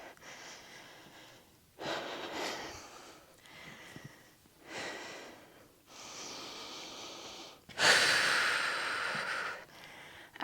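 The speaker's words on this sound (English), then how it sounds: "Let's rest for 4 more breaths." Heavy, audible breathing of a person resting between sets of a home dumbbell workout, a series of loud, long breaths in and out with short pauses between, close and alone.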